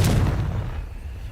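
Confringo blasting spell explosion in Hogwarts Legacy: one heavy, close boom with a quick sharp onset that fades into a rumbling tail, alone with no talking.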